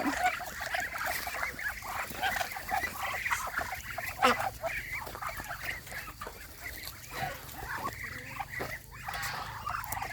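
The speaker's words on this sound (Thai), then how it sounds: "เล่นกับเป็ดค่ะ" Several ducks quack and honk in a busy, overlapping chorus at night, close by and continuing throughout.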